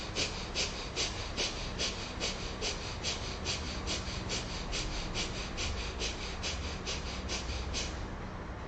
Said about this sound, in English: So you can continue the 60 strokes Kapalabhati.